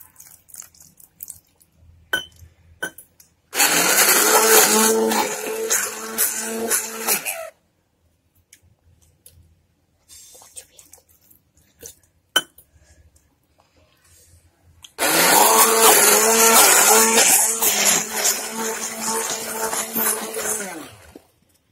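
Cake batter whipped with milk in an electric mixer, two loud steady bursts of whirring, each a few seconds long, with quiet gaps and faint clicks between them.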